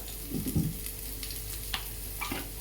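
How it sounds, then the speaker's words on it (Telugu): Sliced onions and curry leaves fry together in a pan with a light, steady sizzle, broken by a few soft stirring scrapes near the start and end. "చూడండి, ఆనియన్స్ ఈ విధంగా ఫ్రై అయితే సరిపోతుందండి"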